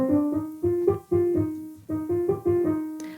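A G natural minor scale played note by note on a melodic instrument, distinct stepwise tones with short gaps and a pause partway through, clear and alone.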